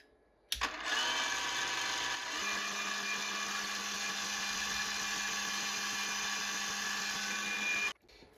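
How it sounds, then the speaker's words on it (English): A power drill with a 3.3 millimeter bit drills a hole for an M4 thread in an RC car part, whirring steadily at close range, starting abruptly, pitch dropping slightly as the bit bites, then stopping suddenly. "At the first step, I will drill the hole for the threading."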